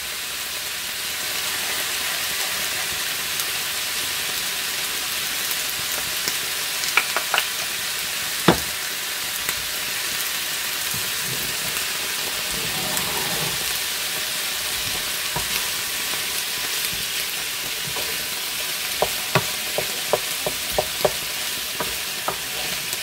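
Pork in a garlic and rum sauce is stirred in a pan, with a continuous sizzle and frying hiss and occasional sharp scrapes and taps of the utensil, close and with no talking.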